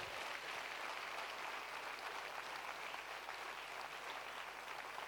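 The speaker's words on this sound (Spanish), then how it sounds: "Dar un aplauso al Señor." A church congregation applauds during a Spanish-language sermon, a dense, distant wash of steady clapping that fills the whole stretch without a break, with no talking over it.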